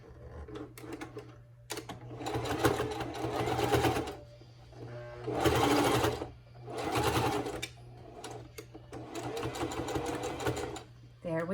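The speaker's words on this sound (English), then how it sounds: "Put it under the presser foot, stitch, back stitch." A sewing machine stitching a fabric face mask with ribbon under the presser foot, running in several short bursts with back-stitching, while someone talks between runs.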